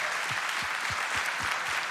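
Sparse, slow clapping from a conference audience at a fundraising event, a handful of distinct claps at a steady rhythm over a broad hiss of room noise.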